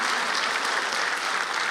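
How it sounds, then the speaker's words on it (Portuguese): Audience applause at a football management lecture in Brazil, a brief, fairly faint wash of many hands clapping evenly throughout, with no speech over it. "As palmas significam que vocês querem que o André saia."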